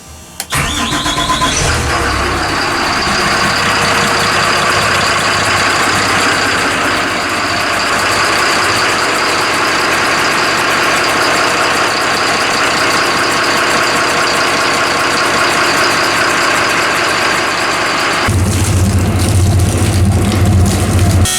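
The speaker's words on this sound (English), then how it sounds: "we're test firing the engines" A boat engine cranks and catches, then runs loud and steady at a constant rumbling idle for a long stretch, close by, with no talking.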